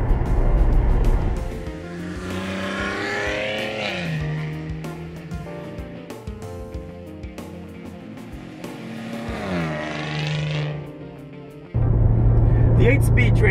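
A 2014 Maserati Ghibli S Q4 with an 8-speed transmission accelerates, its engine note rising and then dropping sharply at quick gear changes, before a louder rumble near the end.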